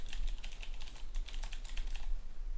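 Rapid, uneven typing on a computer keyboard, steady clicking keystrokes close by throughout, with no talking over them.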